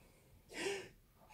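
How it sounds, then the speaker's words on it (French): A single sharp sneeze bursts out in a quiet room, a brief breathy explosion of sound with nothing else around it. "Désolée si vous avez entendu l'éternuement,"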